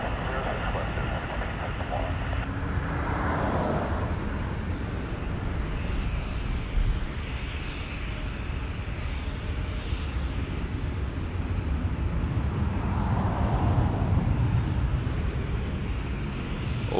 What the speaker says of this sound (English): 4552, headed to JFK. Embraer 175.